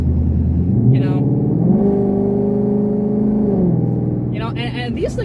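A 2014 Ford Mustang GT engine revs up on light throttle, rising then falling back, loud and close, with brief talk in the car before and after.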